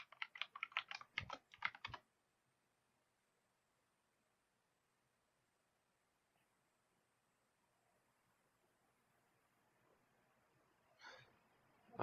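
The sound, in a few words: typing a password on a computer keyboard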